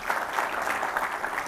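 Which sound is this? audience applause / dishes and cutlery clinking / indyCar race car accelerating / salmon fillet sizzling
audience applause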